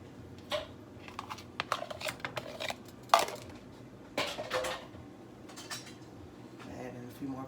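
Egg and peas cooking together in a pan bring scattered clinks, taps and scrapes of a utensil against the pan and dishes. The sounds are irregular and close, with a low kitchen background.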